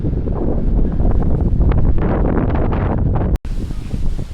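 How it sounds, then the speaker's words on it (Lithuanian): Heavy headwind buffets the microphone while cycling in loud, rumbling gusts, briefly cutting out before the blustery roar resumes. "vėjas į veidą"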